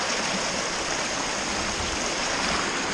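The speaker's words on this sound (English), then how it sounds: "Here we are, right in the centre of the waterfall." A loud, steady roar of rushing water heard from right in the centre of a waterfall, close and continuous, filling the whole clip with broadband noise.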